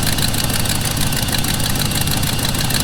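A steady, rumbling car engine with an exhaust manifold leak idles continuously at close range, with a constant low drone and slight mechanical knocking throughout.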